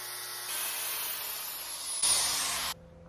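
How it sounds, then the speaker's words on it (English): An angle grinder working pontoon railing sheet metal gives a loud, steady high-pitched whirring hiss that rises briefly near the end and then cuts off, close by with no talk. "Put a guard on your angle grinder."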